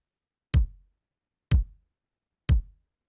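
A Lindrum drum machine kick layered with an acoustic-style kick in a studio mix: three evenly spaced, punchy low thumps about a second apart, each decaying quickly, alone with no talking.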